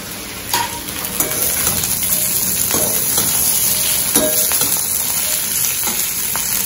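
Sliced onions and curry leaves frying in a pan, a continuous loud sizzle and crackle with occasional stirring scrapes and spatters, no voices.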